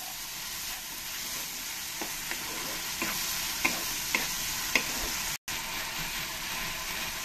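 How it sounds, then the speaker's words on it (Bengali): Ginger-garlic and tomato paste fry in a pan, a low, steady sizzle broken by light scraping clicks of stirring and one brief dropout near the end. "এবার আমি টমেটো পেস্টটা দিয়ে দেবো, দিয়ে ভালো করে আমি একসঙ্গে কষিয়ে নেব"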